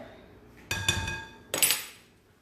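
A fork clinks against a bowl while stirring a crumbly bagel dough mixture, giving two sharp metallic knocks close together and then a louder scraping clink about a second later, with no talking.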